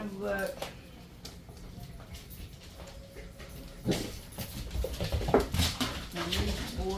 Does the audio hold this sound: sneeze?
no